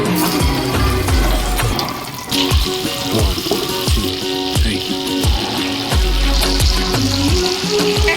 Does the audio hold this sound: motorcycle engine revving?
no